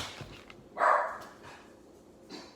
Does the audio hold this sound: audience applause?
no